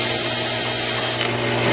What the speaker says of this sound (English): take your belt sander